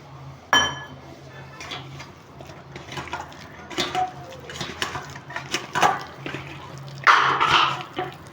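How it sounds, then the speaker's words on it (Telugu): Water is poured into rice flour batter for pakodi and stirred in a bowl, with scattered clinks, wet mixing squelches and splashes coming in irregular bursts, close and moderately loud. "లైట్గా వాటర్ పోద్దాము"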